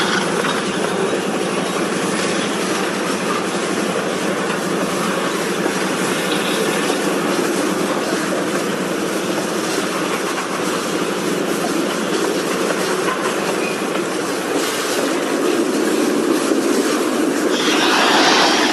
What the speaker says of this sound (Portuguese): Reparem que é um trem de carga